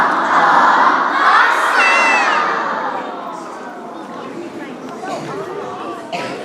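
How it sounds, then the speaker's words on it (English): Elementary school children at an all-school meeting shout a loud group hawk cheer together, a dense wall of young voices that rises sharply, peaks with high squeals, then settles into lively crowd chatter. "Let's, of course, give them the awesome hawk cheer."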